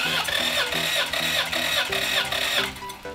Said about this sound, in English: crank the engine on the starter motor for about 6 turns